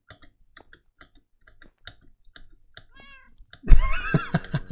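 A cat meows loudly in the video game Minecraft after a run of sparse mouse or key clicks, the meow arriving near the end and rising over the quiet clicking.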